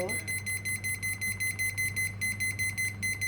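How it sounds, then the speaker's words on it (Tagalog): A digital kitchen timer is set to 45 minutes while homemade puto with salted egg and cheese toppings steams, giving a rapid run of short, evenly spaced electronic beeps over a steady low hum. "Timer tayo ng 45 minutes."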